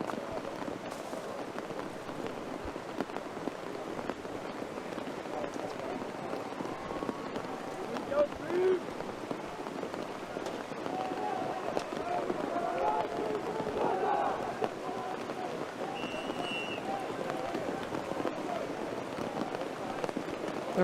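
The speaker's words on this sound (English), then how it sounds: "The rain's definitely coming down a lot heavier than it was." Heavy rain pours steadily onto an outdoor ultimate frisbee field during a quarter-final match, a dense constant hiss through the whole stretch with faint crowd noise and distant voices beneath.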